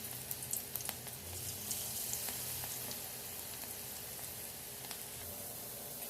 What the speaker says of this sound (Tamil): இப்போ முட்டைக்கோசை பொறிச்சு எடுத்துக்கலாம்